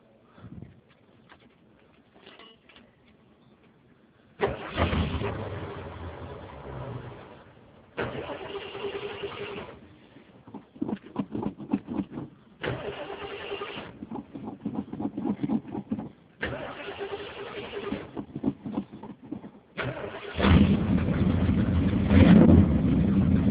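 A 1971 Ford LTD Brougham that has sat unused for a while is cranked repeatedly in several bursts, each crank loud and close with brief pauses between, before the engine finally catches and runs in the last few seconds.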